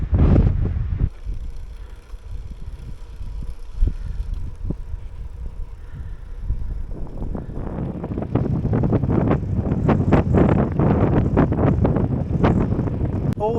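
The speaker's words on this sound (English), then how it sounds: "and yes, you can hear the wind." Wind buffeting the microphone while cycling on the Greek island of Kalymnos, a constant low roar that grows heavier and gustier toward the end.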